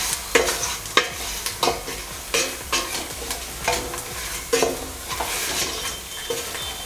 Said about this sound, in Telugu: ఈ spices turmeric powder, chilli powder రా ఫ్లేవర్ వెళ్ళిపోయే వారికి మనం కుక్ చేసేసుకోవాలి.